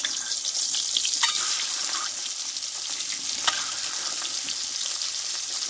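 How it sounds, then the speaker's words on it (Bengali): Eggs frying in hot mustard oil in a wok, a steady bright sizzle with occasional sharper crackles and spits, close and continuous with no talking. "দিয়ে ডিমগুলো একটু ভেজে নেবো আমি।"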